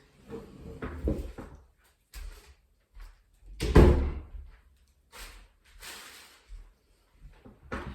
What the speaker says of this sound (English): I'm just going to close the door 1 second.